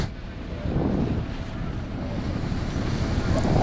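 A passenger launch cruises on a river near Rangamati, its engine giving a low, continuous rumble over wind and water noise that stays steady throughout.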